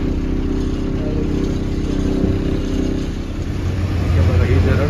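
Deep, steady engine drone and road rumble inside the cabin of a Shree Travels bus on a ghat road between Gaganbawda and Kolhapur, loud and continuous throughout with a brief dip midway and no talking.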